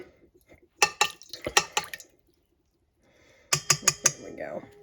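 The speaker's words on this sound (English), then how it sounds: "And I'm just going to mix that honey into the warm water" A spoon stirs honey into warm water in a glass for bread dough, giving two bursts of quick, close clinking and scraping strokes separated by a quiet gap, with no talking.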